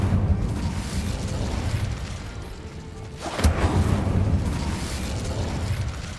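A fire spell cast in Hogwarts Legacy erupts as a sudden burst around the midpoint, flaring over a steady low rumble of game ambience and then settling back.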